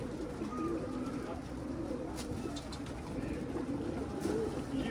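Pigeons cooing near a coop, soft repeated low coos layered over outdoor background, moderately close and fairly faint, no speech.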